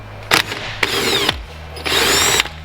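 An electric power tool loosens the steering wheel bolt on a BMW F80 M3 in short close bursts: a brief whir, a longer buzzing run that winds down, then another sustained burst, with sharp clicks between them.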